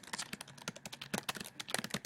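Fingers tap rapidly on a computer keyboard, a quiet, close run of uneven clicking keystrokes with no talking.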